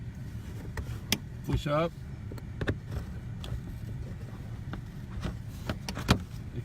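A flathead screwdriver pries the plastic third brake light cover loose at the bottom edges, giving a few sharp clicks and a brief squeaky scrape, with short speech and background hum.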